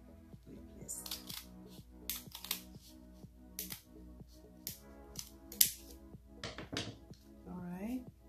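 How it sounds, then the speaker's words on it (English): Scissors cut along a marked line on fabric for a 3D face mask, giving repeated short crisp snips and thunks close by over a steady background hum with tonal music underneath. "So let's cut it off along the mark"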